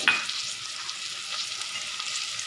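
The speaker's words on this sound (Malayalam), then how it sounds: "ഇതൊക്കെ ചേർത്ത് നന്നായിട്ടതൊന്ന് വഴറ്റിയെടുക്കാം." Green chilli, ginger and garlic fry in a pan with a soft, even hiss of oil, fairly quiet and steady, with no voices over it.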